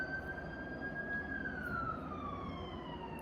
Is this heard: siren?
yes